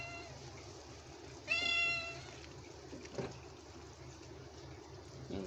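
Chintu, a pet cat sitting in a kitchen, lets out one clear meow close by, with soft cooking sounds and faint rustling around it.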